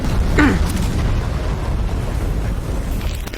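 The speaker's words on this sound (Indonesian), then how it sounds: "Mantap ledakannya." A bomb explosion from an American air raid on North Vietnam, played from a documentary, comes as a loud burst followed by a deep, sustained rumble that rolls on without fading.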